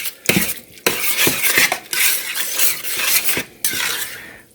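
A metal spoon clinks and scrapes against a pot and dishes while chili powder and cumin are added for chili cheese dogs, with several sharp, close knocks between busy rattling.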